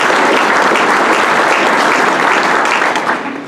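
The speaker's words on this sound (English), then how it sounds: "can we please give Scott a round of applause" A crowd applauds steadily and loudly for about three seconds at the grand opening program of the American State Bank Sports Complex in Sioux Center, then the clapping begins to fade.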